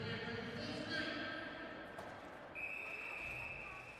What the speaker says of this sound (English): Now we get a whistle.